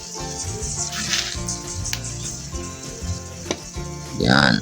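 Chili and garlic frying in hot oil, a steady close sizzle running throughout, with a brief louder crackle near the end.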